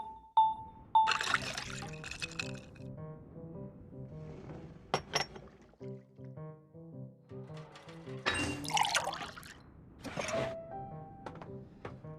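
Water trickles and pours into a drink in the Genshin Impact barista game, with glassy clinks, soft splashes and a few brief chimes in between, near and fairly quiet.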